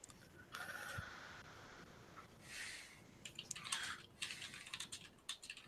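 Quiet typing on a computer keyboard, scattered soft key clicks in short irregular bursts with pauses between, fairly close and alone.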